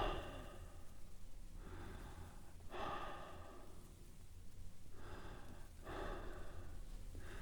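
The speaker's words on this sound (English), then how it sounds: "Your own breathing." Someone's own slow breathing while lying in bed on a quiet night, several soft, close inhales and exhales rising and falling in a steady rhythm over a faint background hush.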